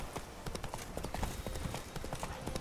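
Hooves of Roach, a horse in The Witcher 3: Blood and Wine, clip-clop steadily in a quick, even rhythm throughout, close and moderately loud, with a busy background underneath.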